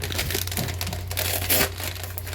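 Plastic packaging around a Motorola Moto G Stylus 5G 2023 phone case is unwrapped up close, giving continuous loud crinkling and rustling with a sharper crackle partway through.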